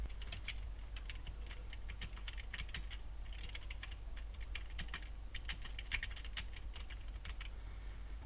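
A slide title gets typed on a computer keyboard in presentation software: quick bursts of light key clicks with short pauses, close and alone over a low steady hum.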